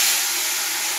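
Panch phoron spices sizzling in hot oil left from frying fish, a steady bright hiss that fills the short moment close up.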